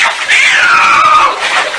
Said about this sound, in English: That's me nearly drowning the cat, trying to give him a bath